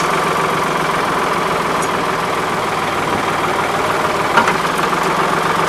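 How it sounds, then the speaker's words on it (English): A John Deere 3910 tractor engine runs steadily and close by, revved up to drive the power steering. It holds a loud, constant mechanical drone with no break across the whole stretch. "You gotta rev it up so the power steering actually works."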